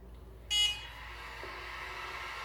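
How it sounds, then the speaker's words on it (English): A Tria hair removal laser device gives one short, clear, high beep over a faint steady hum; no one speaks. "And then each time it beeps, you kind of move it"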